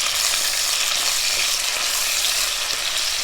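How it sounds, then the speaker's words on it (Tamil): Onion, curry leaves and dried red chillies sauté in hot oil for a Tamil brinjal poriyal, giving a loud, steady, close sizzle that holds without a break and has no talking over it. "ஒரு கொத்து கறிவேப்பிலை, 2 வரமிளகாய் நல்லா வதக்கிடலாம்."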